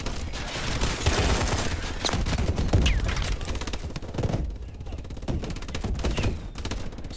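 Swarm missiles fire in a video game as a dense, continuous rattling volley of rapid launches and blasts, fairly loud, with a short thinner lull partway through.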